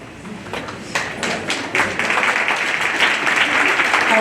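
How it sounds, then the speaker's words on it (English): An audience at a candidate forum breaks into applause, starting with scattered claps that swell into fuller, steadier clapping over a few seconds. "round of applause to all of you for standing up for democracy"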